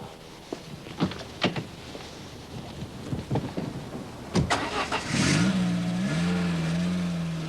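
A 1991 Citroen ZX car is driven, with a few sharp thumps and clatters first, then a steady engine note that rises and holds as the car pulls away, loud and close.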